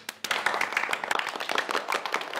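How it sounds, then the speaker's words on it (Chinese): A group of colleagues clap at a company meeting about a tenth-anniversary celebration, a burst of scattered hand claps that starts abruptly and continues fairly quietly for a couple of seconds. "明白了，鼓掌。"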